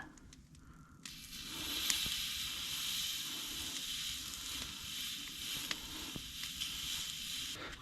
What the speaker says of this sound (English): We're gonna get a sear on it.